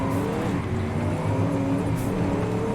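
The turbocharged V8 diesel of an HDT VK Commodore in Forza Horizon 5 drones loudly and steadily under load, a deep continuous engine roar close up.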